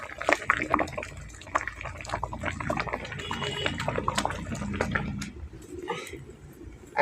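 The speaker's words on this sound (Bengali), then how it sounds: "একটা ফুটো গামলায় ঢেলে নিচ্ছি।" Boiled ol (elephant foot yam) water drained from a kadai into a perforated bowl in a home kitchen, a rushing pour with splashes and clinks of the pan, close and fairly loud.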